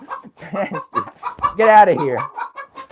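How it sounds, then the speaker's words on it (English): Three white leghorn chickens cluck loudly and close by, with a burst of harsh squawking in the middle, while a person speaks over them. "I have 3 white leghorns all clucking right now"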